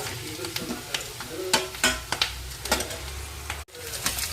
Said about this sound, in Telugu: ఉల్లిపాయ వేగుతుంది, అలాగే క్యాప్సికమ్ ఆలుగడ్డ వేసుకోవాలి.